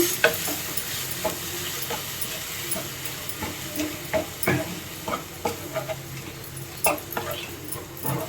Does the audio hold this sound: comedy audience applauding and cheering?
no